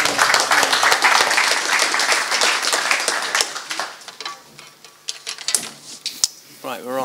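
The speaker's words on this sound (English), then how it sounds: "Give them another round of applause for being the first," A room of attendees at a 2014 hackathon applauds the first team's final pitch, dense clapping in the first few seconds that thins to scattered claps, with a voice talking near the end.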